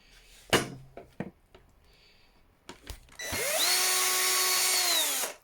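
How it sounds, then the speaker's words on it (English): A small cordless drill backs a screw out of a Vax Blade cordless vacuum cleaner, a loud steady motor whine lasting a couple of seconds after scattered handling clicks and taps. "I've got my little cordless drill here"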